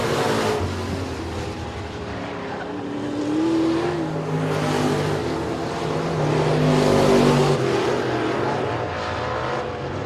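Street stock race cars roar around Sabine Speedway on the final lap, a sustained engine drone that swells and recedes as the pack passes at a distance.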